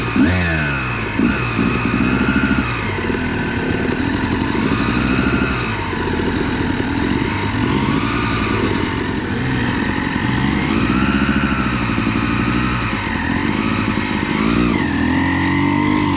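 Small CRF50 dirt bike engine running steadily for the whole stretch, idling with repeated revs rising and falling, loud and close with no talking.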